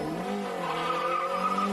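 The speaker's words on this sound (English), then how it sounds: "Great start, he really built the revs up, just a bit of wheel spin as he got away" A race car launches off the line at a hill-climb event, engine revved high with a brief tire squeal from wheel spin, loud and close with sustained harmonic engine tone.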